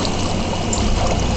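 Water pours steadily from a bucket in Minecraft in a brief, continuous rush with no pauses or voices.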